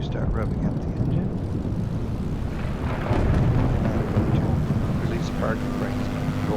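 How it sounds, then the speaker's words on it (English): Cirrus SR22 piston engine revving up in Microsoft Flight Simulator 2020, a steady loud rumbling drone that swells slightly midway, with a voice talking over it. "I'm going to start revving up the engine."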